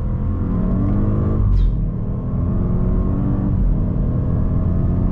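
An Audi S8 stage 1 engine revs and pulls hard, a steady loud rumble rising in pitch, heard close from inside the car with no talking.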